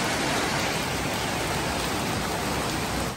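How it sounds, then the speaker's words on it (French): Steady, dense rain falls continuously on a surface, a loud broadband hiss with no gaps, heard alone without voices. "Regardez la pluie."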